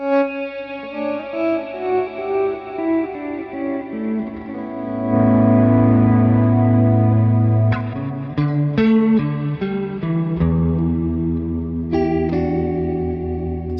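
Electric guitar solo played through a pedalboard switcher, sustained chorus-and-distortion-tinged notes swelling and ringing out with heavy reverb and echo tails, played alone without talking.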